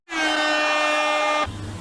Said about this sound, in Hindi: हॉर्न मार दे भाई तू